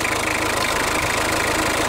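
A diesel engine runs steadily at idle, its low rumble and fine rhythmic knock continuous and close throughout, with no voices.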